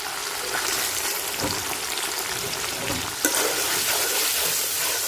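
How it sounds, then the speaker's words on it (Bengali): Chopped tomato dropped into spices frying in a pan, a steady close sizzle with a brief stirring clatter partway through, no talk. "এখন দিয়ে দিব এই যে টমেটো কুচি"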